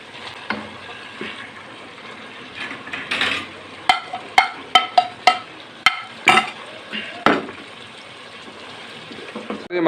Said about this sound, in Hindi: मसालों को नाज़रीन हमने इसमें अच्छी तरह भूनना है।